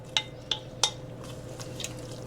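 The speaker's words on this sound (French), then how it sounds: "je vais maintenant rajouter mes légumes" Vegetables being added to kichari simmering in a pot: a few sharp metallic clinks of a utensil against the pot over a low steady background hum, close and quiet, with no talking.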